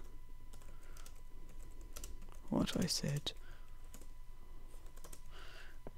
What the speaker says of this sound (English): Stupid keyboard.